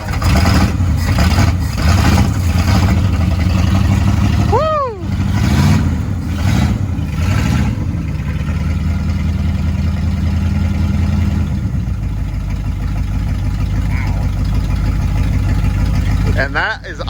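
A 1984 Chevrolet Monte Carlo engine idling after long storage in a shed, a loud, rough, continuous low rumble that holds steady throughout, with brief rises in engine note and a sliding whistle-like sound early on.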